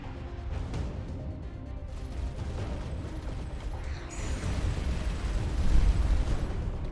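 Enemy missiles explode in the space game Starcom Nexus, a continuous rumbling barrage of booms and bursts that swells louder toward the end, with no talking.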